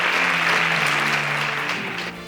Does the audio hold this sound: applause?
yes